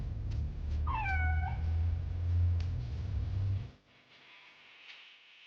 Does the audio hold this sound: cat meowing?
yes